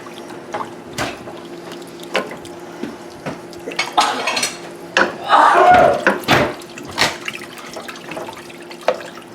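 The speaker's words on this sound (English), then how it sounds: "We'll just keep stirring this around till we get everything fanned out and smoothed down." Meatloaf gravy being stirred in a pan, with scattered utensil clinks and scraping against the pan, some running water, and brief talk in between.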